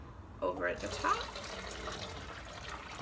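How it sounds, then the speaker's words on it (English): Cold water poured from a cup into a pitcher of homemade lemonade, a short splashing pour near the start, mostly under a person talking. "you'll put the last cup of water, that's just regular cold water"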